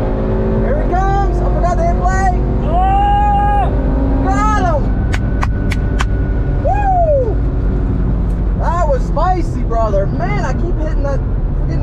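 An 8Y Audi S3 with an EQT tune launches at a drag race, its engine rising and falling through repeated revs over a constant low rumble heard from inside the car.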